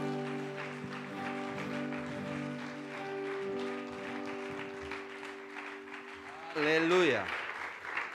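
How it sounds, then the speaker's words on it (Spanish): A church congregation claps loudly and steadily in praise while sustained organ or keyboard chords ring underneath, ending with a rising shout of voices. "Dale fuerte ese aplauso al Señor"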